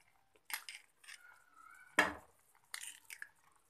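Spoon stirring cream into spinach kofta curry in a pan: a few scattered light clinks and scrapes with one sharper clatter midway, close and fairly quiet, no talking.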